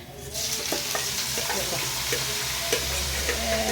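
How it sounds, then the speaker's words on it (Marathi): Spices with Kashmiri red chilli and salt frying in hot oil, a close, steady sizzle with repeated scraping and stirring knocks from a spoon. "आता हे सगळं तेलात घालून घ्यायचं"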